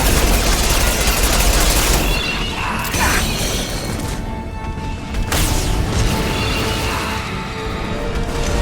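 Gunfire in the sci-fi shooter game Mass Effect Legendary Edition: dense, loud bursts of weapon fire and mechanical clatter running continuously, with brief gaps and sharp impacts, no talk.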